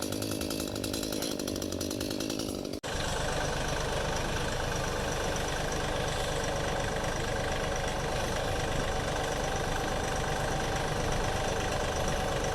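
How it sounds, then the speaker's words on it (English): An engine idles with a steady, rough drone that grows fuller after a short break early on, running continuously at moderate distance. "I'm just gonna go get the tractor"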